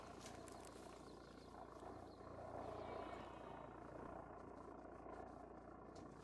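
Faint, steady aircraft engine drone hangs over a Yukon River wilderness in theHunter: Call of the Wild, a continuous low rumble with a slight swell midway and no speech.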